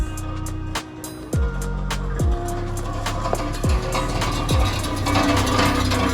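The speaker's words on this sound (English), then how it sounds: "Hectic exhaust, bro." A car with a damaged, dragging exhaust drives past on a mountain track in cold conditions, with repeated scraping and clunking knocks over a rumbling engine, fairly close and loud.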